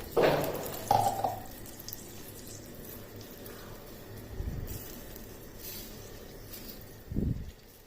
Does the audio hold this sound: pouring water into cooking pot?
yes